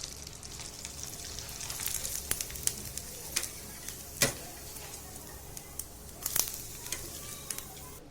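Rava kurdai, semolina fryums, frying in hot oil, a quiet crackling sizzle close by, broken by scattered sharp ticks and pops and a few clinks of a utensil.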